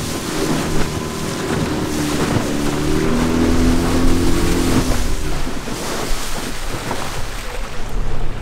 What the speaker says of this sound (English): This is how I kind of carve through these waves in a little boat